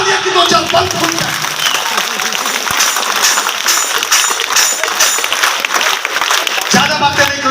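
Seminar audience in Hazaribagh clapping, a dense, loud and sustained patter of applause filling the hall from start to finish, with voices mixed underneath.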